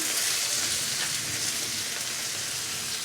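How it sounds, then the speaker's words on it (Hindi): Chopped onions dropped into hot oil for a stuffed bitter gourd (bharwa karela) dish give a steady, even hiss and crackle, close and continuous, sounding much like rain on a surface. "तो अब हम चॉप किया हुआ प्याज डाल देंगे इनमें"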